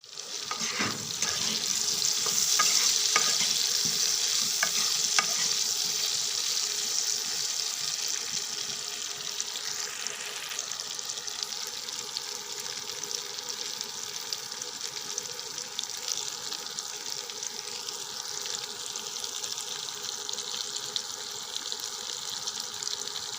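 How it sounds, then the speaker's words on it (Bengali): Potatoes fry in a pan for a potato curry, giving a continuous broadband sizzle that is loudest early on and then settles into a steady hiss. "এখন আলুগুলা ভেজে নেব।"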